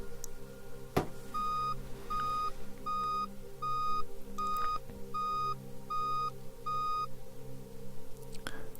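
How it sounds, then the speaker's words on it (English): Eight short, clear electronic beeps in a steady rhythm over a low background hum. "Let's begin with the first sequence of beeps."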